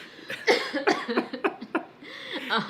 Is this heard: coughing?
yes